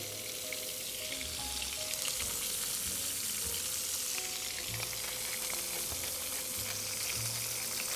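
Fresh burger patties sear in a hot pan with a steady, dense sizzle, while low thuds and a few faint clinks sound beneath it.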